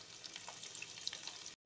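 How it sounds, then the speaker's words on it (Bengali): Pumpkin frying in a pan, heard as a soft, continuous crackle and sizzle with small spattering pops. It sits fairly faint in a home kitchen and stops abruptly at the end. "কুমড়ো ভাজা হচ্ছে"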